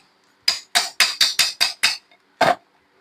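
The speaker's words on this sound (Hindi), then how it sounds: "तो हल्के से क्या करेंगे, इसको हम ठोक देंगे।" Seven quick, sharp metallic taps followed by one final knock as a part is lightly hammered into place during a mixer grinder repair, close and crisp against a quiet background.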